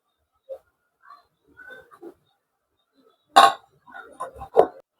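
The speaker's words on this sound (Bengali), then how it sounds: "এই যে আমি ভর্তার জন্য প্যান বসাই দিলাম।" A pan is set down on a home stove while cooking vorta beside khude bhaat. Sparse small clinks and taps are followed by one sharp metallic clatter and a few softer knocks, all close and quiet.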